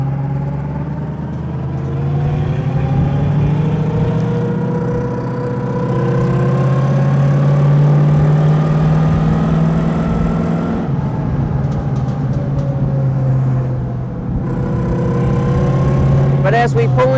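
A 1920s Le Mans race car driving on Los Angeles roads, its exhaust note a loud, steady, close drone with a sustained low rumble and layered harmonics that dips briefly mid-way before resuming.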